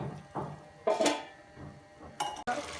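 A metal lid set down over a cooking pot of beef and cauliflower curry, giving a few clanks and clinks close by, with no talk.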